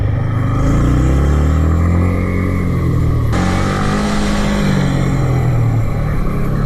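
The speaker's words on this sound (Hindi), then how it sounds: "ये प्रॉपर इंक्लाइन चढ़ाते चढ़ाते मतलब ये बाइक को स्ट्रगल नहीं होगा।" A motorcycle engine labours up a steep incline, loud and close, its sustained drone rising in pitch, dipping briefly at a gear change midway, then climbing again.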